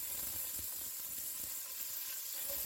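Sweet potato, rutabaga and carrots sizzle steadily in a hot pot for a beef stew, a continuous close frying hiss with no talk.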